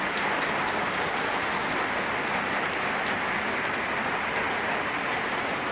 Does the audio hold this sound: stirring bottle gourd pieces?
no